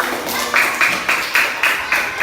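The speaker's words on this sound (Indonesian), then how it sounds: "Tepuk tangan buat Suryani." Children clapping hands together in a classroom, six sharp, evenly spaced rhythmic claps in unison, fairly close, with faint background chatter.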